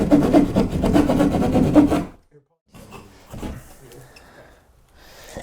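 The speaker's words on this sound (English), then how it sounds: "All you'll need for this is just a standard sheetrock blade" A standard sheetrock blade saws through drywall for an in-ceiling or in-wall speaker cutout, a loud, steady rasping scrape with rapid strokes for about two seconds, then a pause and quieter scraping and handling.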